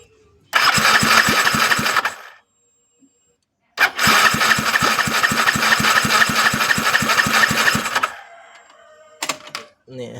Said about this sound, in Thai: ลองสตาร์ทเครื่องดูครับ